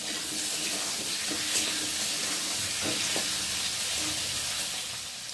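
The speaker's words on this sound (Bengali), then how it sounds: "আলুটা একটু নেড়ে দিই।" Potatoes frying in a pan for a home-cooked meal give a steady, fairly quiet sizzling hiss, with a few soft scrapes and clicks as they are stirred.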